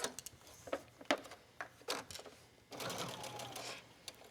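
A sewing machine stitching fabric for a hooded towel, several short bursts of rapid mechanical whirring and needle chatter, then a longer continuous run near the end, close and clear with no talking.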